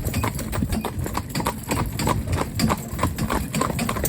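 A team of horses being driven at a trot, hooves clip-clopping in a steady, continuous rhythm over a low rumbling background, with no voices.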